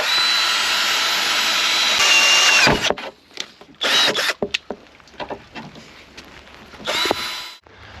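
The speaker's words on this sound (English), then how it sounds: "We're just looking for the little indentations where the spot weld's at to drill them out." A power drill whines loudly for a few seconds drilling out spot welds on a car body, then stops, followed by shorter bursts of drilling and clattering metal sounds.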